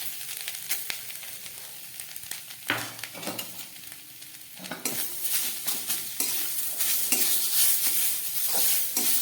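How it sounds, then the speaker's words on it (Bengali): Coconut paste fries and is stirred in a pan for sandesh, with a continuous sizzle and repeated scraping strokes of a spatula that grow louder and busier toward the end. "নারকেলটা একটু ভেজে নিচ্ছি, নারকেলে কাঁচা গন্ধটা যাতে না থাকে।"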